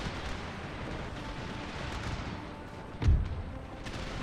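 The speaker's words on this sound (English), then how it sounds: "Holy crap, they're letting off a lot of fire here." Musket volleys and artillery crackle from an Empire: Total War battlefield, a steady distant roar of massed gunfire with one heavier boom standing out near the end.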